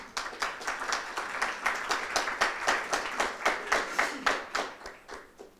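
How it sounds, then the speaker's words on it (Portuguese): Applause at a financial innovation panel on artificial intelligence and big data, heard as a steady run of crisp, evenly paced claps from a modest audience, fairly close and continuous for several seconds before tapering off. "Palmas."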